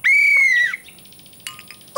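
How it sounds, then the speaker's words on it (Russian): A toy whistle blown in a children's cartoon gives one shrill, sustained tone lasting about half a second, followed by softer chirping cartoon sounds. "Мой свисток."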